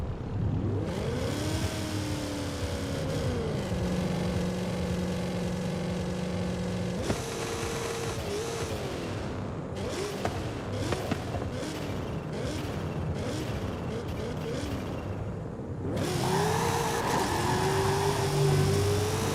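The Hoonigan Ken Block Mustang in Forza Horizon 5 revs and accelerates loudly, its engine pitch climbing and falling through gear changes, with bursts of throttle and a brief lull midway before the roar returns.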